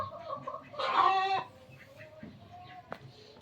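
Hens sitting on eggs in the evening cluck softly nearby, one louder burst of clucking early on, then quieter scattered clucks.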